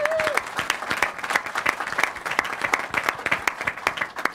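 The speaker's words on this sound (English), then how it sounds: "Let's give them a big round of applause." Sustained audience applause fills the air at an outdoor celebration marking the New River Gorge Bridge's 40th birthday, steady dense clapping at moderate distance with a brief whistle at the start.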